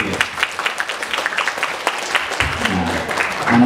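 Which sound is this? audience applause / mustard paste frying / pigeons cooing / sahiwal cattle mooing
audience applause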